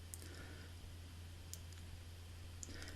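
A few faint, sparse computer mouse clicks over a low background hum, spaced irregularly and quiet.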